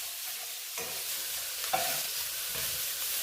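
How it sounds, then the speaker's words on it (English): Onions fry in a pan for a bitter gourd and meat curry, giving off a loud, steady, close sizzle broken by a few scraping stirs, with no talking. "you'll cook these until you get the onions slightly, a slight brown"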